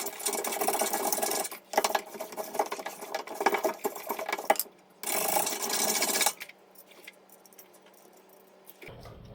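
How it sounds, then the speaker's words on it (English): Chisel and wire brush scraping loose rust and metal from the inner rear wheel hub of a 2003-2008 Toyota Corolla, heard as close, rough rasping bursts with short pauses, fading to quieter scratching near the end. "we're going to clean out the inner hub here with a chisel, just kind of scrape away some of the loose rust and metal and stuff, and then wire brush"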